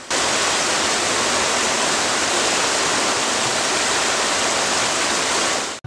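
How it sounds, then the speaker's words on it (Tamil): Constant rushing water flows without pause, a dense, steady hiss and gurgle heard close up and alone. "சலசலக்கும் ஓடைகள் பசுமையான புல்வெளிகளில் பாய்கின்றன"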